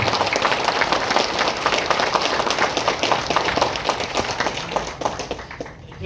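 An audience at a Tamil-language stage event breaks into brisk, dense clapping that holds steady and then thins slightly near the end.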